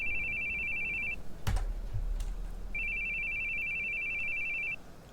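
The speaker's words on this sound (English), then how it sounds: "Your phone's ringing." A telephone rings in the horror video game The Boogie Man: two long, steady electronic rings separated by a short gap with a couple of dull thumps in between.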